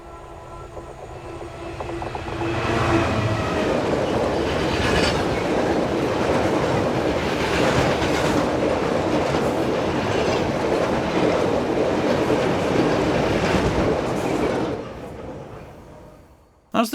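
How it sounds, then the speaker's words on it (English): A train passes on a busy British railway line, its loud, steady rumble and clickety-clack of wheels swelling in over two seconds, holding close for about twelve seconds, then fading away. "As the train passes"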